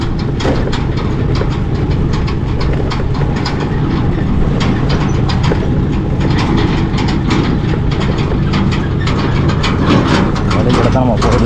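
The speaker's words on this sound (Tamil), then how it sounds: "முன்னாடி ஒரு டிராக்டர் போகுது." A tractor engine rumbles steadily ahead on a forest village road, with a constant low drone and road noise, continuous and loud throughout, with some talk underneath.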